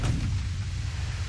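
Naval guns firing armor-piercing shells in the warship game Ultimate Admiral: Dreadnoughts, a single deep booming report that rolls on as a heavy, sustained low rumble, loud and with no voices.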